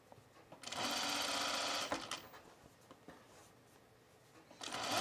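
A sewing machine runs at close range while it stitches tucks into a top. It whirs steadily for about a second and a half, goes quiet, and starts again at the end.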